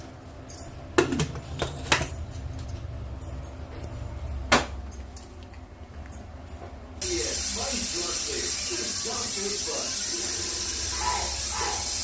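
A few clattering metallic rattles give way to a loud, steady hissing whistle of steam from a pressure cooker cooking goat trotter curry, its second whistle, with a voice talking faintly underneath.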